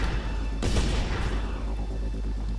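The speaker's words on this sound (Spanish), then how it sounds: "que he oído disparos" Gunfire in the Just Cause game set in Panau: a loud booming burst with a sharp crack around the middle, over a dense, noisy backdrop of game action.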